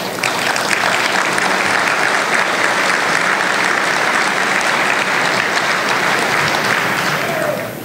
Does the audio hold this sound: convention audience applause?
yes